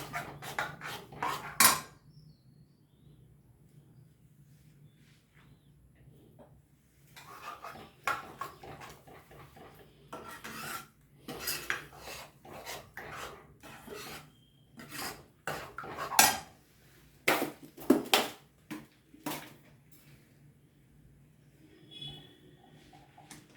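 Rock salt goes into a pot of food and gets stirred, giving bursts of metal scraping and clinking from a spoon against the pot. The bursts come in irregular clusters after a single early clatter, close by with no talking.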